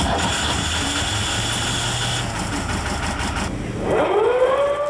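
A totally enclosed ship's lifeboat engine turns over and catches, rising into a steady mechanical drone with a whining tone, loud and close, no voices.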